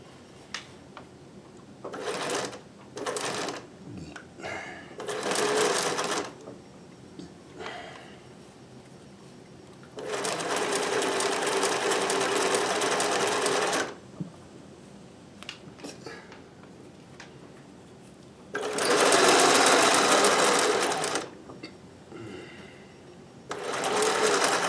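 A sewing machine stitches in several bursts, a few short runs followed by two long sustained runs of steady whirring, close and loud, with quiet handling noises between them; no one speaks.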